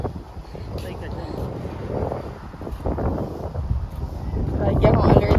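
Outdoor wind gusting against the microphone, a rough rumbling buffet that rises and falls and grows stronger toward the end, with people talking underneath.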